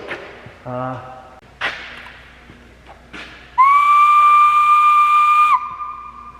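After a few faint knocks and a brief tone, a loud steam whistle blasts steadily for about two seconds as a quitting-time signal, then cuts off, leaving a fading hiss.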